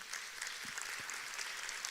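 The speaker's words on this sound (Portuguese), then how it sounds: "mais uma vez você pode aplaudir o nome de Jesus." Church congregation applauding during a Portuguese-language sermon service, a soft steady patter of many hands, fairly quiet and distant, lasting throughout with no voice over it.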